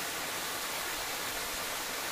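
A waterfall in tribal forest country near Araku at Seethampeta sends up a steady, dense roar of falling water, even and unbroken throughout with no voices.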